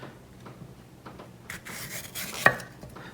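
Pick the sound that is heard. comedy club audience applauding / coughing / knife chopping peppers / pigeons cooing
knife chopping peppers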